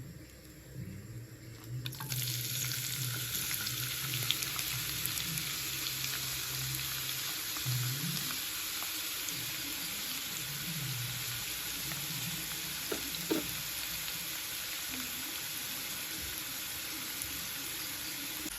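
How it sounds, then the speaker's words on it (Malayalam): Shallots sizzle and fry in hot coconut oil in a pan, a steady, close crackling hiss that starts suddenly and continues throughout, with occasional stirring clinks. "വെളിച്ചെണ്ണ ചൂടായതിന് ശേഷം ചെറിയുള്ളി ഇട്ട് കൊടുക്കാം"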